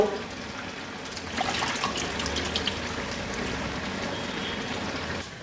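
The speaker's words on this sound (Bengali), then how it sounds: "ধনিয়া পাতাটা ধুইয়া ভালো করে" Fresh coriander leaves rinsed under a running kitchen tap, a steady close splash of flowing water that swells after the first second and continues evenly to the end.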